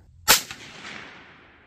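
A single sharp .22 WMR rifle shot fires a Hornady V-Max round toward a ballistic gel block outdoors in wind, a loud crack followed by a fading echoing tail.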